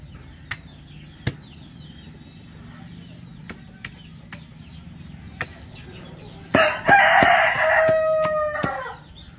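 Backyard chickens and a rooster feed on chopped onion greens and coriander, with scattered pecks and taps early on, then a loud close rooster crow with clucking in the last few seconds.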